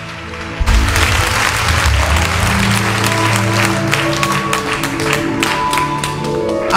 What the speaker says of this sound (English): if you're clapping, you can clap.